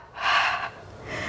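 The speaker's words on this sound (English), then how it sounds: "Breathing out." One breathy exhale during a no-equipment Pilates core workout, close and audible, lasting about half a second, then a softer breath follows.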